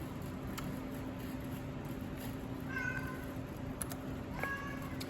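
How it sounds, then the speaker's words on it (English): A cat meows twice, short and fairly close, over a quiet humming room background. "sorry, that's my cat."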